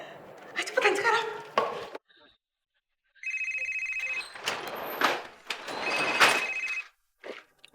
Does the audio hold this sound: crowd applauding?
no